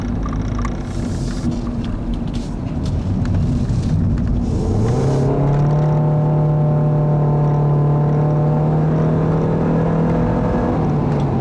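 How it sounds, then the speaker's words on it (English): A 2015 Nissan Versa Note with a CVT accelerating, a rough rising engine and road noise settling into a loud, steady, buzzy drone as the revs hold at redline for several seconds. "In typical CVT fashion, this transmission will basically alter the ratio and hold the revs at the Redline, so you're going to have to deal with that buzziness"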